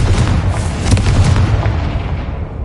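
Booming blasting-spell explosions in Hogwarts Legacy during a magic duel, dense and continuous low rumbling bursts with crackling layers, loud and close throughout.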